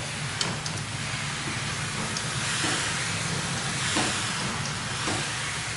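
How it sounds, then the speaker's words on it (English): A hand sprayer with a cone-shaped nozzle mists carpet in a steady, fine, close hiss that keeps going for the whole stretch, with a few brief louder bursts. "the cone shaped nozzle on this one, and it puts out a really fine mist"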